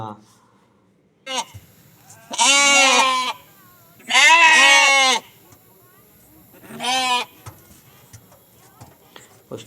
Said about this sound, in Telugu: ఆ పిల్ల అరుపు మొదలు పెట్టింది చివరి వరకు అరుస్తూనే ఉంది